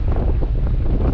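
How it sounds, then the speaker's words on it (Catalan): Steady headwind from the southeast buffets the microphone of a moving bicycle, giving a loud, constant low rumble with no break. "He trobat el vent de cara ja, aquí ja està entrant el sud-est"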